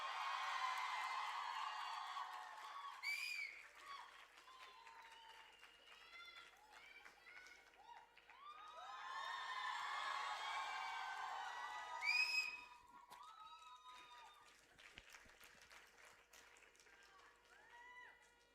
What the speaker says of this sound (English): everyone cheer for Ram sir